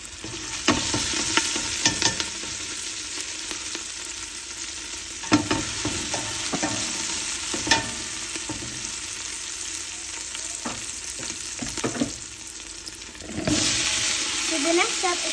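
A zucchini and courgette dish bubbling and sizzling in a pan, a continuous frying hiss broken by clinks and scrapes of stirring, with a brief louder surge near the end and no talk.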